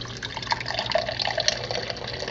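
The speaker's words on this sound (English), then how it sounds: "just pour it right in the glass like this" Beer from a Party Pig keg, an oatmeal stout, pours steadily into a glass with a continuous close liquid stream and fizzing for a couple of seconds, no talking.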